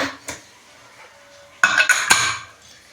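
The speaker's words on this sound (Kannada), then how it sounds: "ನಾನು ಈಗ ಕುಕ್ಕರ್ನ ಕ್ಲೋಸ್ ಮಾಡ್ತಾ ಇದ್ದೀನಿ" A pressure cooker lid is fitted and closed, giving a quick run of loud, close metallic clanks and scrapes after a quieter start with one light knock.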